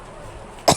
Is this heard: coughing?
yes